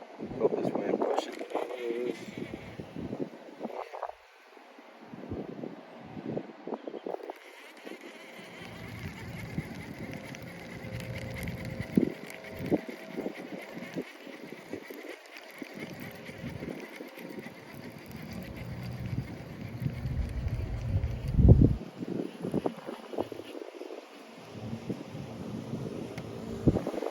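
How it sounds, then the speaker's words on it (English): Wind blowing hard across a lake while fishing from a boat, a steady rushing buffet with low gusty rumbles against the microphone, loud and continuous, with a person talking now and then. "Oh, this wind pushing."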